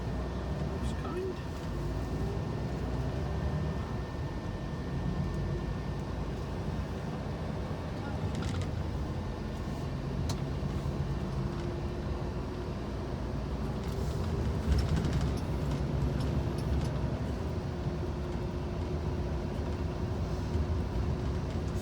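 Steady drone of a new Ensign Volvo recovery truck heard from inside the cab while cruising at about 30 mph in 11th gear, with continuous road and wind noise under occasional talk.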